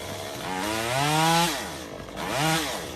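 A chainsaw cuts into a tree, its engine loud and close, revving up and down in two rising-and-falling surges with a brief dip between them.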